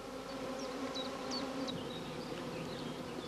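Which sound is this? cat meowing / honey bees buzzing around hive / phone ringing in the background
honey bees buzzing around hive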